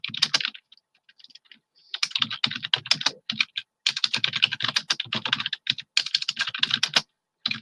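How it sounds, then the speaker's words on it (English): Rapid, close computer keyboard typing runs in uneven bursts of clicking keys, with a few brief pauses and no voices. "You'll hear me typing now."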